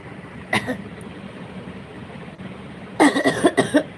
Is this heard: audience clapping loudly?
no